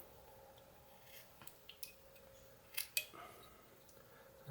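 A knife whittling wood while carving a small owl makes soft, close scraping and snicking cuts, a few sharper clicks standing out amid quiet pauses.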